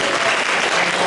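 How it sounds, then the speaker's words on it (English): Dense audience applause at a real estate seminar, loud and steady from start to finish with no clear talk over it. "give her a round of applause"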